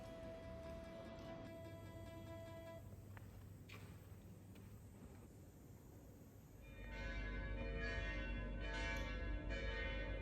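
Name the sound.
church bells ringing in Florence, Italy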